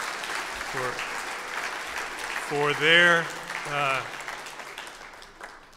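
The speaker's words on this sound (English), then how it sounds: "Let's give them a round of applause" Audience at a formal dinner hosted by the U.S.-Philippines Society clapping steadily throughout, a round of applause running under someone talking over a microphone.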